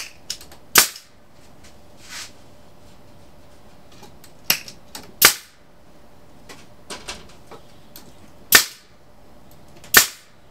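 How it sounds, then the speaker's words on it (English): Staple gun fires staples through wire onto a Langstroth hive screen bottom board, sharp isolated snaps at irregular intervals, several close and loud, others fainter, with quiet gaps between. "The staple gun's putting too much pressure out"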